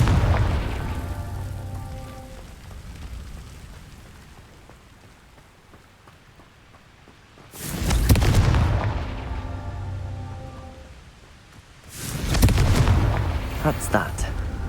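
Confringo fire spell blasts from Hogwarts Legacy, two loud booming explosions several seconds apart, each with a crackling tail, over steady rain-like ambience and low game noise.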